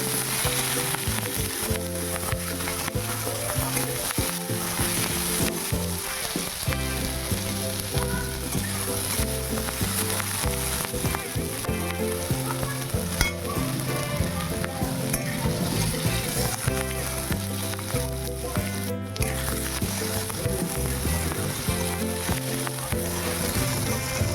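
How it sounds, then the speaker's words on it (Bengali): Tomato, green chilli and spices sizzle loudly in a pan while they are stirred. The hiss is dense and constant, and a low rhythmic background runs underneath it. "নাড়াচাড়া করে"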